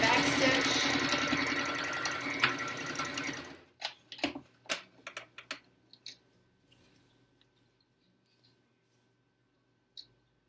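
A sewing machine back stitching an N95 mask cover runs in a steady close whirring burst, then stops, followed by scattered clicks and small handling knocks and a faint tap near the end.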